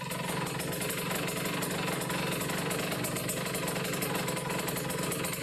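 A motorcycle engine idles steadily after its carburetor air-fuel mixture has been adjusted, a close, even, continuous putter with no speech.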